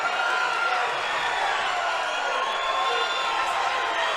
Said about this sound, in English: this crowd's swelling